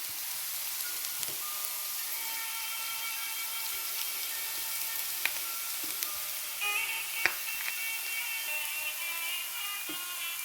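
Beetroot frying in a pan gives a faint, steady sizzle with occasional small pops and clicks of utensils, quiet and continuous.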